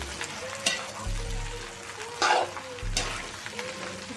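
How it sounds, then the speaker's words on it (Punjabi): Okra (bhindi) stir-fried in a pan for a Punjabi-style home curry, a steady sizzle broken by several scraping, clattering strokes of a spoon against the pan. "ਭਿੰਡੀਆਂ ਨੂੰ ਚੰਗੀ ਤਰ੍ਹਾਂ ਭੁੰਨਾਂਗੇ ਜੀ ਜਿਸ ਤਰ੍ਹਾਂ ਅਸੀਂ ਪਿਆਜ਼ ਭੁੰਨਦੇ ਆ ਜੀ"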